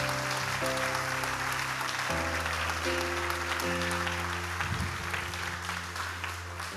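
A church congregation applauds steadily, a sustained wash of clapping mixed with worship music playing over it.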